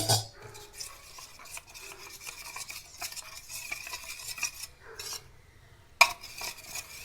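A spoon works through thick batter, curd-like in consistency, in a bowl, giving close wet scraping and stirring sounds with occasional clinks against the side.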